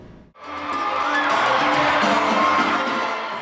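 A crowd cheers and whoops at a Latin dance competition at the Strathmore Music Center in Rockville, rising suddenly after a brief hush into loud, sustained applause and yelling.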